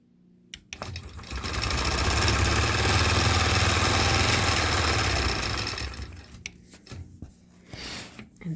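A longarm quilting machine stitching deep feather patterns hums steadily and loudly for several seconds, then stops, leaving quieter handling noises and a brief restart near the end.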